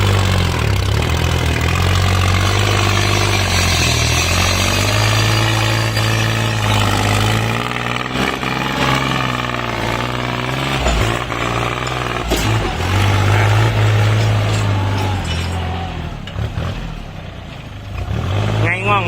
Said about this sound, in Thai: เครื่องยนต์เป็น3สูบนะครับไดเรกอินเจคชั่นครับ